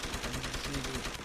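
Gunfire in the Deus Ex: Human Revolution video game on Wii U, a rapid, continuous burst of automatic shots with a dense rattling rhythm, loud and close throughout, mixed in with the game's soundtrack.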